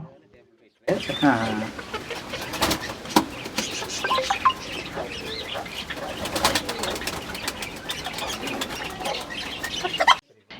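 Several chickens cluck and call close by at an animal market, with pigeon coos, occasional wing flaps and a voice talking intermittently underneath.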